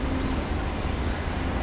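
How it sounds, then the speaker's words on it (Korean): An airport shuttle bus in hot weather pulls in at a terminal stop, its engine a steady, close low rumble blending with surrounding road traffic, with no voices over it. "셔틀버스가 들어왔습니다."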